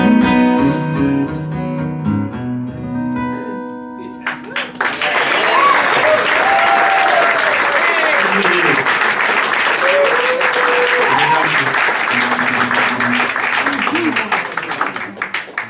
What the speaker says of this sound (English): let's hear a big round of applause for our special guest this week